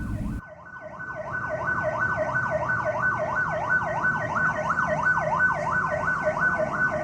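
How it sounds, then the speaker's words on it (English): A loud wailing fire station siren cycles rapidly up and down without pause, close by, after a brief low rumble at the start. "switching all the sirens on"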